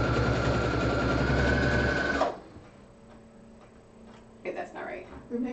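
A sewing machine stitches steadily at close range for about two seconds, then stops abruptly, leaving quiet room tone with faint talk afterward.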